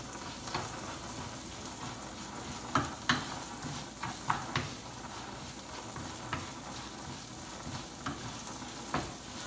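Rice fries in butter in a pan with a steady, close sizzle, broken by occasional sharp clicks and scrapes from stirring.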